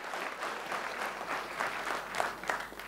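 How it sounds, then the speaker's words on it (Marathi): A seminar audience breaks into loud, sustained clapping, a dense even roar of many hands that swells slightly near the end. "एकदम मोठ्या जोरदार टाळ्या वाजवूया आपण त्यासाठी."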